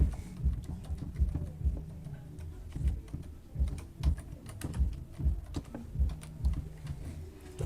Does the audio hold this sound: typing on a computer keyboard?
yes